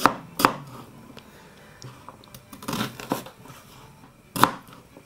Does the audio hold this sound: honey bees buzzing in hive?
no